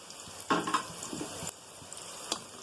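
Onions, green chillies and spices such as biryani masala, ginger-garlic and garam masala frying quietly in a pan for tomato rice, a faint steady sizzle broken by a few sharp stirring scrapes.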